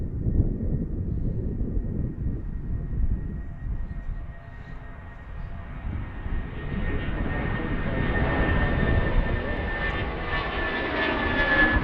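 A Boeing 757 jet airliner roars loudly on departure from Philadelphia airport, a broad sustained rumble with a thin whine that grows steadily stronger toward the end.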